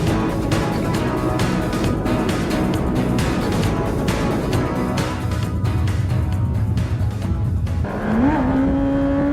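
A Kawasaki ZZR motorcycle engine roars loud and close at high revs, holding a steady howl before the pitch climbs sharply near the end as it accelerates into a wheelie.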